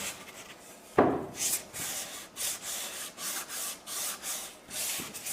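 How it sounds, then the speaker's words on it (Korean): Rhythmic scratchy rubbing of sandpaper on a wooden cutting board's edges, close up, repeated strokes in steady bursts with a sharp knock near the start. "가볍게 사포질을 해주세요."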